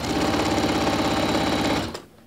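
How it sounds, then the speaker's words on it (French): Sewing machine stitching a mitred seam, a loud, close, rapid rhythmic needle chatter running steadily for about two seconds before stopping abruptly, followed by a faint click. "Et je fais ma couture tout le long"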